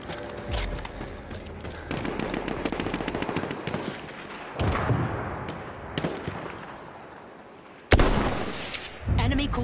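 Artillery strikes pound the battlefield in Battlefield 1: sharp booms and cracks with rolling rumble and scattered gunfire, including a sudden loud blast near the end.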